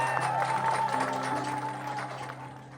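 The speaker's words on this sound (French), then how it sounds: "on applaudit alors" Crowd applause at a traditional African wedding ceremony, a steady wash of clapping running the whole time, moderately loud, with a sustained tone and voices mixed in underneath.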